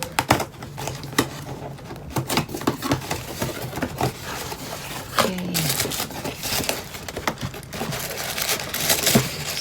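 A cardboard box for a Chanel cardholder is opened, giving repeated scraping, tearing and crinkling noises, close and fairly loud, with an irregular rhythm throughout.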